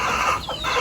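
Laying hens clucking close by in a poultry pen at feeding time, a short burst of soft, throaty clucks without any talk.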